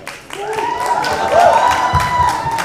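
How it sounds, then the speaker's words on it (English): Audience applause for the Heeramandi cast at a live event, a broad crowd clap building and holding under an amplified host's voice that talks across it. "Big hand once again for these wonderful actors who made Hira Mandi"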